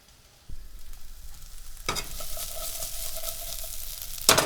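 Onions and green beans sauté in a pan, starting quietly before a burst of loud sizzling takes over and holds steady with a few crackles, no talking.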